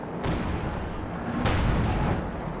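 Mortar fire from the video game Company of Heroes 2, two heavy booming impacts about a second apart over dense, continuous battlefield rumble and noise.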